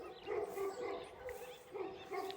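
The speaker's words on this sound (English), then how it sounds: "All the dogs are going crazy." Livestock guardian dogs at a farm dog rescue bark and yip in repeated bursts, somewhat distant and faint, with a voice talking at points.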